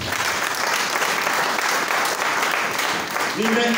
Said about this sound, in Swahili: Pigia Yesu makofi bwana.